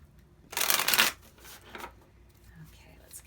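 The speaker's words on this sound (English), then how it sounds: "Okay, let's cut the deck." A tarot card deck is shuffled and cut in one loud, brief riffling burst, followed by a few softer card sounds and quiet handling.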